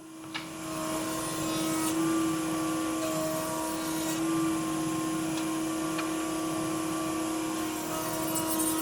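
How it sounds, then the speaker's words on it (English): A router table runs steadily with a strong constant whine, slowly cutting a groove into a wooden box blank during resawn-grain box making, loud and continuous with faint scraping under the motor hum. "using my router table to take this away, but I am going to go very slow"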